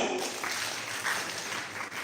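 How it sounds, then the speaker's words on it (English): A crowd applauding in a steady wash of clapping, moderately loud and continuous for a couple of seconds, without voices on top. "Let us give him another hand clap."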